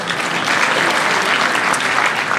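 Loud, dense applause from a CPAC conference crowd, a continuous wash of clapping with no pauses throughout.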